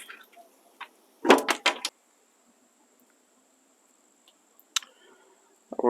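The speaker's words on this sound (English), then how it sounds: "when I close the door" A metal barbecue smoker door bangs shut in a quick cluster of loud clattering knocks, followed by quiet with a faint steady tone and a few later clicks and rattles.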